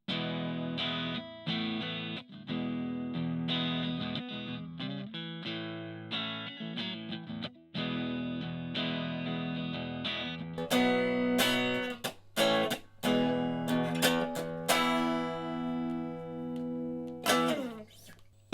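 Electric guitar played through a Vox micro amp on its overdrive channel, distorted chords and riffs ringing loud and close with short pauses between phrases, then brighter, choppier strums toward the end; no talking.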